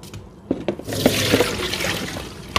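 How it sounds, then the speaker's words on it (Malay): Water is rinsed and poured out while cleaning aloe vera in a kitchen, with a steady splashing, running pour after a few short knocks and drips, close and loud with no talking. "Lepas tu kita bilas. Buang air tu."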